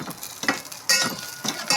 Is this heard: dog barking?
no